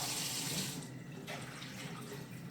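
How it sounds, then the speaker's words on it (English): Water poured out of a glass jar of soaking broccoli sprouts, a steady splashing gush draining into a sink, close and continuous throughout. "After 12 hours, you come out and you pour it out."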